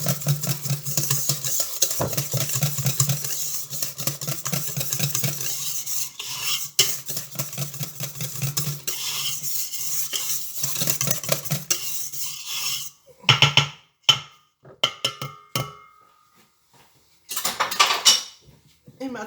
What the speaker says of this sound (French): pour détendre la masse tout de suite au fouet là.